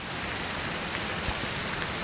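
Dense, steady downpour hisses evenly throughout, a loud wash of heavy rain with no voices.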